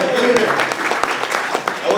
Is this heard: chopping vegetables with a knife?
no